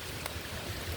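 Steady rain outdoors near a stream or boat, a soft continuous hiss of falling drops, faint and unbroken with no talking.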